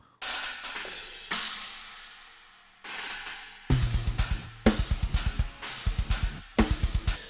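Programmed extreme metal drums with crash cymbals smashed hard, first a few big crash hits ringing out, then driving fast kick and snare bursts with repeated cymbal smashes, loud and dense.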